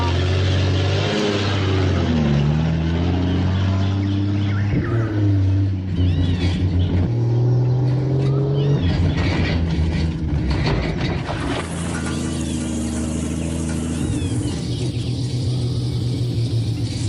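A car is pushed hard over a rough, broken road, its engine revving and shifting pitch beneath constant rattling and clanking of the body, loud and close throughout.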